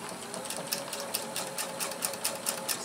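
A sewing machine with a B foot stitches the top seam of a zippered pillow cover, a steady rapid mechanical chatter of needle strokes running continuously at moderate volume with no voices.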